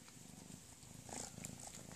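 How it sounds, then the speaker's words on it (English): A domestic cat purrs softly and close by, a faint, steady rhythmic rumble over two seconds with no talking. "I can hear that purr."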